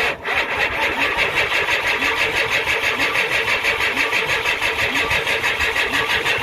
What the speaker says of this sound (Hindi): इंजन स्टार्ट नहीं हो रहा क्योंकि इसका टाइमिंग आउट है